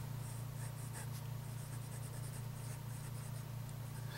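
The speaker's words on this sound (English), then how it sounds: "So let's go ahead and do a little bit of writing." A Wancai mini fountain pen scratches across paper in short, rhythmic strokes, faint and close, over a steady low hum.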